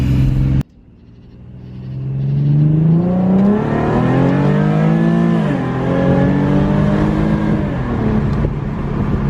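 A 2014 Infiniti Q50 engine with its muffler deleted revs hard and loud, its exhaust roaring and rising in pitch in long sustained pulls, close by.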